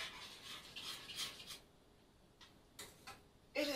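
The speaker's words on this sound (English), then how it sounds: "we're going to give this a quick, quick stir" A quick stir of vegan food in a pot, faint scraping and tapping of a utensil in short irregular strokes, with a brief louder clink at the end.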